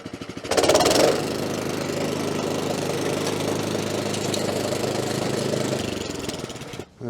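A Camon LS42 petrol scarifier with a centrifugal clutch runs close and loud, revving briefly at the start and then holding a steady buzzing drone before cutting off near the end.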